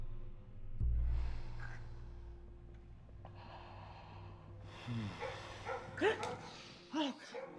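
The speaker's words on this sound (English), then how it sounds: "she heard some dogs barking" Several dogs bark, yip and whimper in a film scene, with scattered snorts and breathy sounds; the calls come in bursts over a low background rumble and grow busier toward the end.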